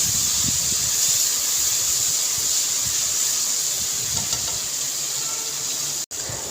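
Garlic paste fries in hot oil in a kadai, giving a continuous bright sizzle and hiss, steady and close, with no one speaking.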